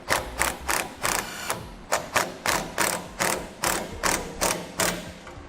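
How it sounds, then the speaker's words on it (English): A ratchet with a 1/2 inch socket tightens a lock nut with a washer on a DeeZee truck bed ladder rack, giving loud, close, evenly spaced clicking bursts, about a dozen strokes, with no talking. "We'll take a washer and our lock nut, and we'll tighten that down. We're going to use a 1/2 inch socket."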